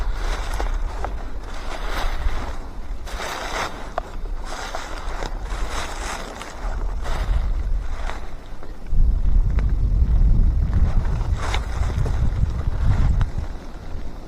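Wind gusting across open hunting land outdoors, a steady rushing roar with buffeting microphone noise that swells louder and deeper in the second half, with no voices.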